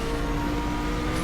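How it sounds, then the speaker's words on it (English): A steady, low car engine drone in the video game Asphalt 8 hums continuously at an even, moderate level without any change in pitch. "I will say that the engine sound is a little bit low."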